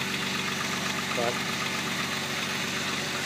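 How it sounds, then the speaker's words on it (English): Close, steady idle of a VW VR6 engine running a little lumpy, with an exhaust leak from loose manifolds and worn ignition wires; a voice briefly speaks over the continuous drone. "a little exhaust leak as I have the manifolds loose, but timing chain's quiet. It's a little lumpy, it needs a set of ignition wires"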